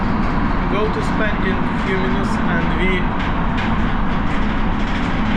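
A train runs steadily with a constant low rumble and rail noise on a journey to England, while people talk over it throughout.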